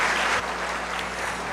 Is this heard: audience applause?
yes